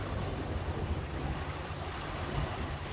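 Rough sea waves churned up during a shore fishing trip: a faint, continuous wash of surf with wind buffeting the microphone, even and unbroken, with no talking.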